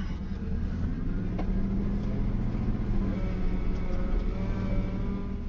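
Engine of a 1985 Chevy K10 pickup laboring and revving as it climbs a steep off-road hill, a continuous, moderately loud low drone with slight rises in pitch; no talking.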